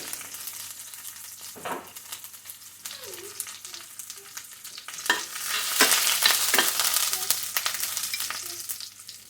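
Mustard seeds, urad dal, cumin and crushed garlic fry in hot oil for a spinach stir-fry. A steady close sizzle swells louder midway, broken by scattered pops and stirring scrapes.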